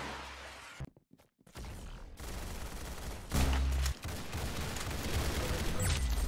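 Gunfire in the Roblox shooter Arsenal: dense bursts of shots, a brief lull, then a loud heavy volley and continued rapid firing close up, with no voices.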